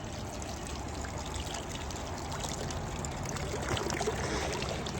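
Spring water flows steadily beside a trail hostel on the Appalachian Trail, a continuous close rushing trickle that holds even and unbroken throughout, with no voices.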